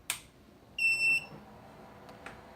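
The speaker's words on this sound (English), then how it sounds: "So that beep you heard was the power supply" 3D printer power supply emitting a short, clear electronic beep at power-up, a brief steady tone standing out over a quiet room with faint clicks before and after.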